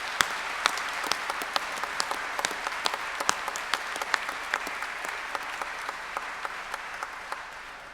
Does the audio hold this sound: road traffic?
no